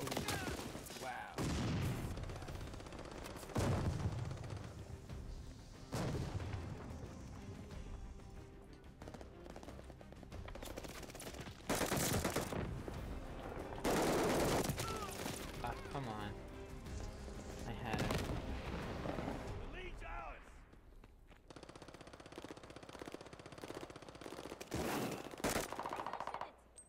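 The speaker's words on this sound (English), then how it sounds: "Friendly mortar fire coming." Dense bursts of gunfire and heavy mortar impacts in a team deathmatch video game, rapid automatic fire and booming blasts recurring throughout, with a player's voice speaking now and then.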